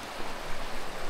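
A river swollen after a night of non-stop rain at a farm campsite in Tanay, Rizal, rushes past as a dense, steady broadband wash, close and continuous with no voices.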